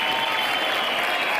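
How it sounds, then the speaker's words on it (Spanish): An audience applauds in a dense, continuous wash of clapping, steady and fairly loud, with no distinct whistles standing out. "Aplausos, silbidos."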